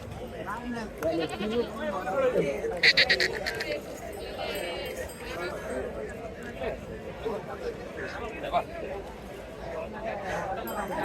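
Goats bleat repeatedly amid a busy crowd at a goat market in Chalisgaon, with steady talking and market chatter running throughout.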